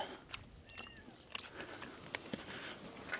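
Faint, thin mews from a lost kitten repeat a few times at a distance on an off-grid homestead, mixed with soft shuffling and background noise.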